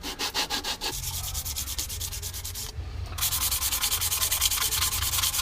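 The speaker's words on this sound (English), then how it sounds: "I'm going to use some 240 grit." Hand sanding with 240 grit sandpaper during work on a Honda Type R cam cover, a steady rhythmic back-and-forth rubbing of paper on a surface, close and loud, with a brief pause near the middle.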